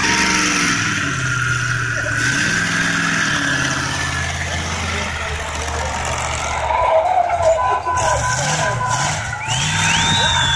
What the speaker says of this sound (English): Come on, full burn out on that.